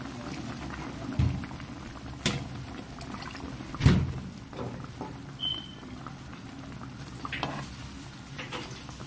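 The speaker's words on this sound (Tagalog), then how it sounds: "Lagyan pa natin ng konting sabaw." Broth is poured into a bowl of homemade soup with no cornstarch or flour, giving a soft bubbling, trickling sound with a few sharper splashes, fairly quiet and close, with no talking.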